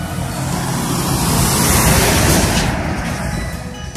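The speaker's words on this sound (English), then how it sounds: "And they got a lot of buses coming and going." Heavy road vehicles roar past on a rural road in Yangana, a loud, dense engine and tire rumble that swells toward the middle and eases slightly at the end, with no talking over it.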